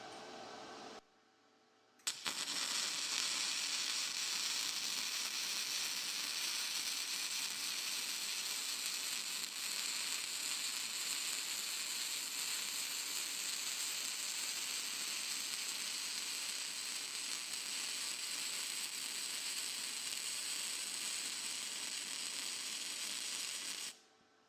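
Flux core wire welding uphill on steel plates gives a steady, loud crackling sizzle that runs unbroken for about twenty seconds after a brief quiet start, then cuts off abruptly.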